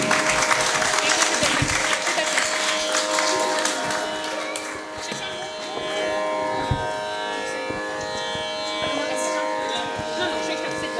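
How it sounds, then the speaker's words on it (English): Applause from a crowd at a Navaratri program in the Bhadrakali Temple, Hoskote, sustained and fairly loud, mixed with a steady electronic hum and tonal background sounds, with people talking through it. "Encourage them with round of applause."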